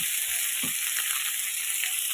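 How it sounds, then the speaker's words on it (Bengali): Potatoes and cauliflower sizzle steadily in hot oil with spices in a pan, a bright, continuous frying hiss close by with a few soft stirring scrapes and no voices. "মশলার সাথে এখন আলু আর ফুলকপিটা দিয়ে দিলাম, মশলার সাথে মিশিয়ে মিশিয়ে"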